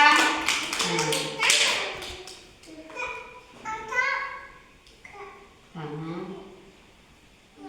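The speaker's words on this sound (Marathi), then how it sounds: "टाळ्या वाजवा" Young children in an anganwadi classroom clap in a short burst at the start, then chatter and answer in high voices.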